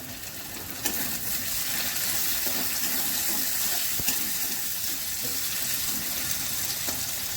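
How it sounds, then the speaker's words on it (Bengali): Onion and chopped tomato with ginger, garlic and a pinch of turmeric fry in a pan, giving a steady, even hiss that carries on without a break. "আর একটু ভাজা হবে।"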